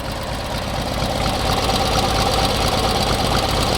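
An MTD racing lawn tractor's small engine idles steadily and close, a rough, even mechanical chugging that holds constant throughout with no talk over it.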